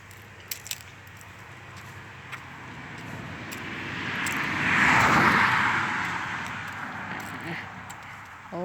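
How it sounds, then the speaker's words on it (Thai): A broad rushing roar of an airplane passing overhead a cornfield, swelling to a peak midway and then fading away, with faint outdoor background. "ได้ยินเสียงเครื่องบินอยู่"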